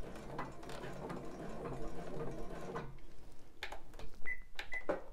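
A sewing machine stitching a bra band runs in a rapid mechanical clatter for about three seconds, then stops. A few separate clicks and ratchet-like knocks follow, close and moderately quiet.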